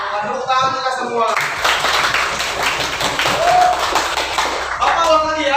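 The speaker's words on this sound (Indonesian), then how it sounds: "Tepuk tangan kita semua." Classroom group clapping, a dense burst of many hands applauding together for several seconds, with a teacher's voice speaking before and after.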